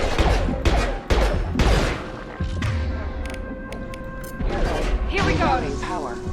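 Heavy impacts and loud pistol shots from Mass Effect 2 combat, several close bangs in quick sequence amid mechanical clatter and crashing, with a voice speaking partway through.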